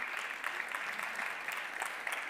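Audience applause at an awards ceremony for a bronze prize at a French brand-content festival, a steady dense clapping from a large crowd throughout with no voices on top.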